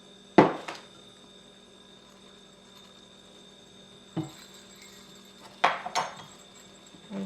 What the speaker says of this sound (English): I'm just going to mix this until it's all well incorporated